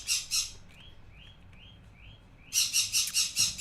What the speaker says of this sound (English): Every bird screams now.